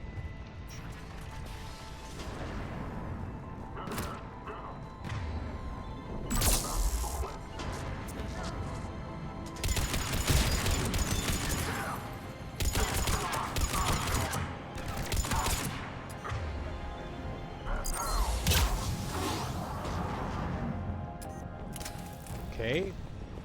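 Heavy booming cannon blasts and crashes go off repeatedly amid action in the video game Mass Effect 3, with voices talking over the chaotic gunfire-like explosions.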